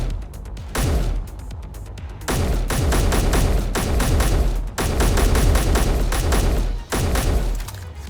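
Gunfire in the video game Subnautica, dense rapid volleys of loud shots with brief pauses between bursts, close and harsh.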